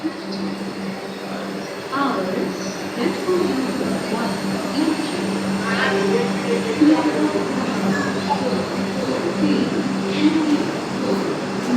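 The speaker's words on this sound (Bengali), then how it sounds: "বিশাল ট্রেন সুন্দর" A long passenger train with many coaches passes by in a steady, continuous rumble and clatter that lasts throughout, with occasional wheel knocks and speech over it.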